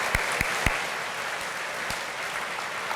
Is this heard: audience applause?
yes